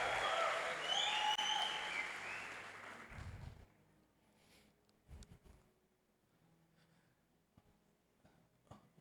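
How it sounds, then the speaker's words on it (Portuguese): Applause for a drummer at a church conference rises briefly, fairly quiet and dense, then fades away after a few seconds, leaving scattered faint knocks and near silence. "Uma salva de palmas para o baterista."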